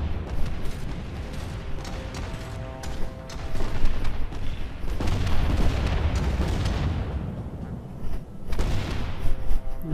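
Warship guns firing in the naval strategy game Leviathan: Warships produce repeated heavy booms and blasts layered over a continuous rumbling battle din, loud and close throughout.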